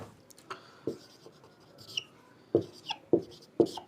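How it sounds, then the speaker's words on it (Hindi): Marker or chalk strokes on a classroom board as a geometry question is written, in short scratchy bursts with a few sharper taps near the end, close and fairly quiet with no talking. "ऐसे क्वेश्चन लिखता हूं मैं।"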